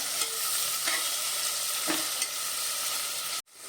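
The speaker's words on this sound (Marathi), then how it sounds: "एक टॉमॅटो टॉमॅटो पूर्ण आपण मऊ हो होईपर्यंत भाजून घेऊया" A whole tomato roasts in a pan alongside green chilies and onion for a pea pulao. A steady close sizzle carries a few soft stirring scrapes, then cuts off abruptly.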